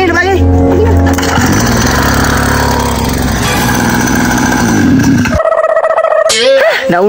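A motorcycle engine runs loud and close, a buzzing mid-pitched drone with shifting revs that cuts out abruptly near the end, while people talk over it.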